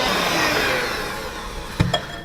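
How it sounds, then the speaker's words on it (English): An electric mixer whirs at a steady, fairly loud pitch as it blends cookie batter with vanilla extract, its motor slowing and fading toward the end before a couple of brief knocks. "Now add your vanilla extract and blend well."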